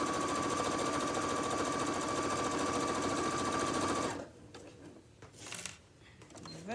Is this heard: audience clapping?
no